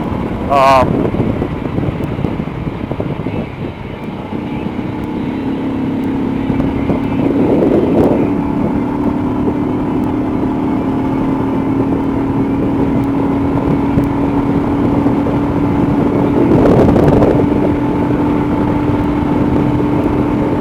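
A 2022 Royal Enfield Himalayan motorcycle is ridden on the road, its engine humming steadily under heavy wind rush, with a few rises in engine tone as it accelerates.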